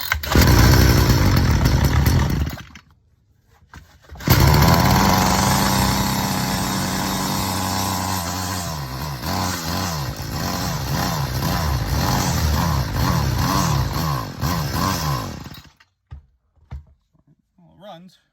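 A Craftsman string trimmer's small two-stroke engine roars loud and close with the throttle squeezed, bogging and surging unevenly before cutting out, then restarting and running rough at high revs until it dies again.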